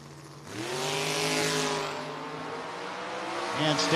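Drag racing cars, a pink Camaro and a Nova, roar together in a loud sustained run with a rising engine note, heard from trackside with a faint public-address voice under the engines.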